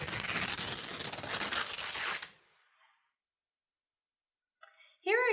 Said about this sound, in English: The answer was paper ripping.